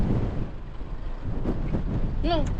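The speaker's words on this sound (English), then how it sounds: "It's bloody windy." Strong outback wind around Andamooka, South Australia, roars and buffets the microphone in a steady low rush, with a voice briefly heard.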